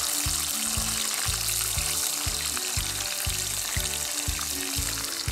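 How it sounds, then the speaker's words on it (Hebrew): Peppers fry loudly in a pan over a powerful turbo gas burner, giving a continuous bright sizzle. Rhythmic low thumps and stirring noises run through it. "אני מטגן את הפלפלים."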